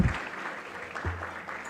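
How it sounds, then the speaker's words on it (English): Brief applause from an audience at a brand awards launch event in Kenya, a short burst of clapping that lingers faintly behind a low voice. "Let's give her a round of applause as she comes."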